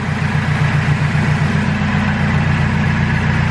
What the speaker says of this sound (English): I'm gonna give it a couple of revs so you can hear what it sounds like with the Skunk 2 Mega Power muffler